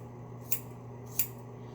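Two quick, crisp snips of a not-too-sharp pair of scissors cutting hair, close and isolated over a faint hum.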